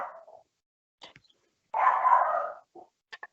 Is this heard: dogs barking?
yes